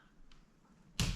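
After near silence, a single sharp tap of a thumbtack point striking a hard wooden door, brief and bright, with a short ringing tail.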